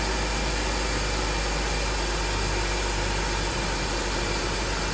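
A BMW 325i engine idles steadily and evenly throughout, a constant close mechanical drone with no voices.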